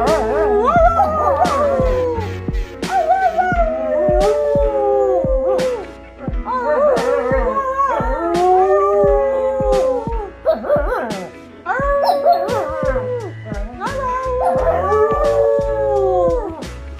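Several dogs howl in long, wavering overlapping cries at an outdoor dog market in Canton, Texas, loud and close, rising and falling in repeated bouts with short pauses between.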